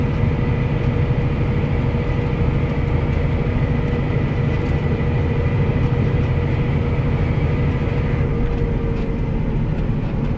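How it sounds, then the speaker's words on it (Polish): A John Deere 7200R PowerQuad tractor from 2014 driving along a road, its engine a steady, dense, unbroken drone from start to finish with no pauses. "Ciągnik prowadzi się dobrze."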